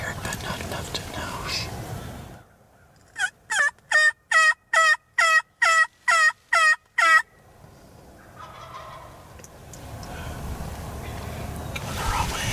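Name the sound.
wild turkey gobbling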